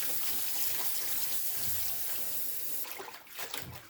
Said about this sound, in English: Let's rinse the Chinese broccoli here quickly.